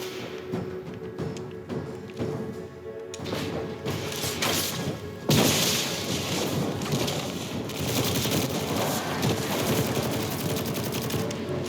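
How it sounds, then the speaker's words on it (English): A Destiny 2 weapon fires repeatedly in combat; headshots trigger a small explosive pop, with a loud burst midway amid continuous gunfire and impact crashes. "If I get a headshot, see if I can get one. It does a little explosion."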